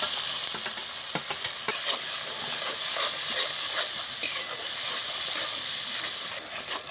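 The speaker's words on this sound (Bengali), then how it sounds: "মশলাটা আমি 2 মিনিট কষিয়ে নেব" Masala with melted tomato and cashew-raisin paste sautéing for a Bengali tel koi fish curry, a steady close sizzle with repeated scraping stir strokes throughout and no talking.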